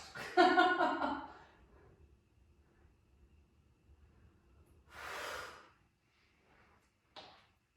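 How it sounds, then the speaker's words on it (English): Heavy, forceful breaths during a weightlifting workout: a sharp exhale, a long breath out a few seconds later, and a final quick puff, with quiet pauses between. "Sorry for all my heavy breathing."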